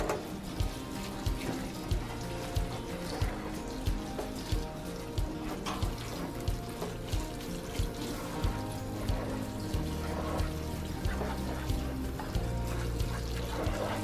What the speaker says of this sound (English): Grab my hose, make sure the pressure is good, yep, and then I go ahead and water.